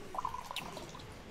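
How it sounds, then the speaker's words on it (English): Coffee is poured into a cup, a soft steady trickle of liquid with a faint rising gurgle, close and continuous. "I'm gonna pour myself a bit more coffee."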